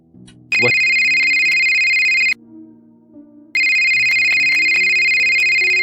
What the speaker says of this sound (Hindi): वही फोन बज उठा।